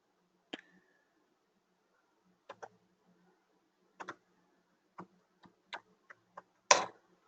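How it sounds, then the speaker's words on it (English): Sparse, quiet keystrokes from typing into a text box on a computer keyboard: isolated clicks and paired taps spaced over several seconds, ending with a slightly louder clack. "so when you are typing in the text box"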